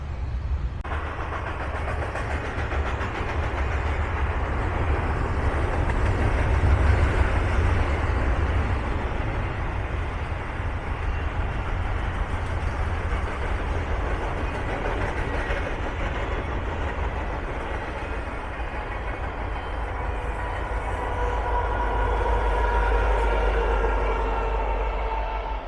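A freight train rolls steadily past at close range, its continuous rumble and wheel clatter holding loud for the whole stretch, with a military-colored tribute locomotive bringing up the rear.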